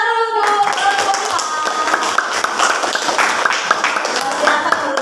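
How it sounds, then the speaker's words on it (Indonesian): Classroom clapping for a student group, a steady, close round of many hands lasting about five seconds after a brief pause of a voice at the start. "tepuk tangan dulu untuk kelompok"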